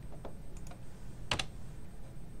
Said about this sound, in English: So, inside Excel, I type in